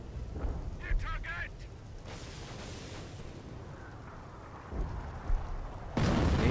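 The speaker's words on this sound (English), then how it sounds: "Artillery, huh? Number 4 gun, barrage." Deep booming explosions and rumbling blasts roll through a noisy battle scene in the video game Company of Heroes, an artillery barrage, with a loud burst of impacts near the end.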